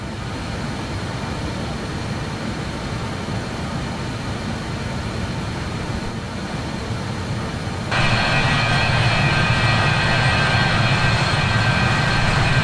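Jet engines of a BAe 146-200 in Microsoft Flight Simulator 2020 roar steadily during climb-out, a continuous loud drone that swells noticeably louder partway through as thrust is increased.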